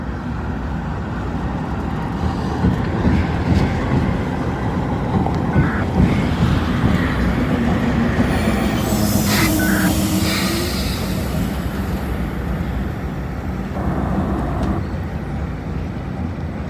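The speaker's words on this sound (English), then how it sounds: "Well, it turns out all it is a couple of light locomotives." A pair of light railroad locomotives running without a train roll past near a trackside signal, giving a steady broad rumble with wind buffeting the microphone throughout and no voices.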